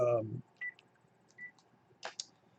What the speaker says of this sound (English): so, a little phone call there